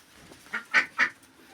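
Geese going into their coop, three short nasal honks rising in quick succession, close and fairly clear over a quiet background.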